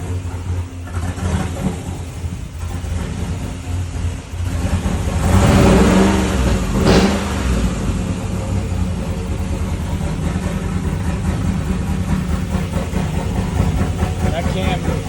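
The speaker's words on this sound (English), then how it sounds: "That cam really does sound good for a blower cam." A Trailblazer SS with a 408 LS stroker engine and Magnuson 1900 supercharger runs loud and close, idling with a choppy blower-cam lope and then revving sharply to a peak before settling back, with people talking over it.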